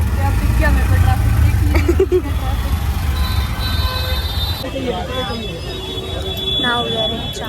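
Busy traffic rumbles on a road in Chandni Chowk, Delhi, with car and vehicle horns tooting repeatedly. Close engine noise fills the background, and people talk over it.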